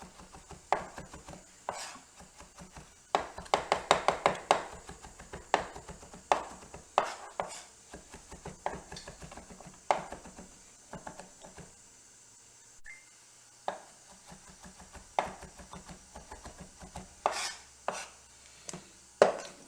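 Garlic is minced with a knife on a cutting board: quick bursts of close, crisp chops that thin out into scattered single taps, with no talk.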